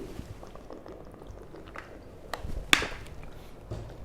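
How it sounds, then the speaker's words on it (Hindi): Water poured and sipped, with soft liquid trickles and small handling clicks followed by a sharp click and a brief gulp, close and quiet in an otherwise still room. "2 मिनट पानी पी लूं"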